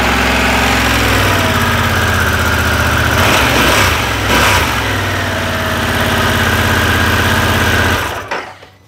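A motorcycle with a Revolution Max engine and stock exhaust idles with a smooth, even, fairly quiet mechanical whir, briefly rising in pitch midway, then cutting off near the end.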